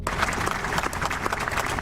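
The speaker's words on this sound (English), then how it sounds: "Applause at the White House for an historic agreement." Crowd at a White House signing ceremony for the Israel–UAE agreement applauds in a fairly faint, steady patter of many hands for about two seconds.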